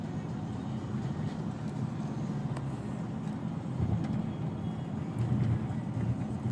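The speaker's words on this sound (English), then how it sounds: "the engine sounds very aggressive" 2012 Nissan Maxima engine accelerating at night, a continuous low rumble heard from inside the car that swells louder toward the end, with faint road noise.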